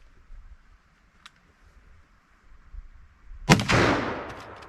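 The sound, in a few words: 45-70 rifle gunshots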